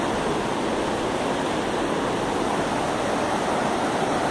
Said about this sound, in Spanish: Hace tiempo no escuchaba el ruido del río.